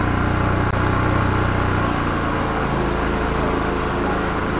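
A small motorbike being ridden on a wet, slippery road gives a steady engine drone mixed with dense hiss from the tyres and spray, close and continuous throughout.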